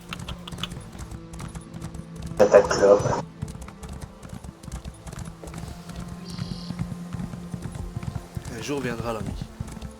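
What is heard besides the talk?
horse galloping hooves in a video game (Cyrodiil)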